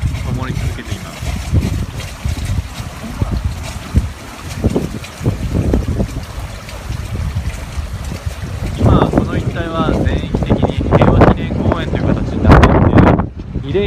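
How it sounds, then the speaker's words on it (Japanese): Strong typhoon wind gusting across an open memorial park in Okinawa, a loud continuous roar and buffeting that swells toward the end, with a person talking over it. "今台風が来ていて強い風が吹いている"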